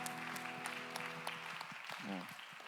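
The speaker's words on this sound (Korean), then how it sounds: "박수로 서로의 삶을 축복합니다." A church congregation claps together during a Sunday young adults' worship service, steady applause filling the room over sustained music tones, with a brief sung or spoken voice near the end.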